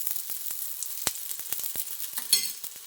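Breadfruit slices fry in oil on a tava, giving a close, steady sizzle broken by sharp crackles and pops, with no talking.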